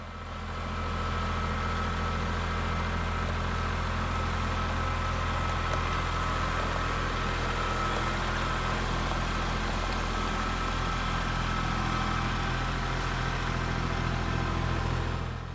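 A tractor engine runs steadily while carrying a roughly 1,000 lb, 7-foot-6-inch-tall pallet on its forks, one side dragging on gravel; a continuous, loud, low rumble persists throughout with no talk.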